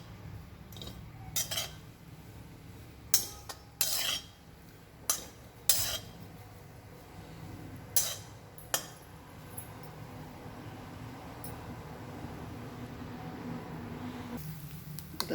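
A bowlful of grated coconut is stirred and roasted in a pan for a modak filling, with faint, intermittent scrapes and sharp clinks of a spoon against metal over a quiet background and no talk.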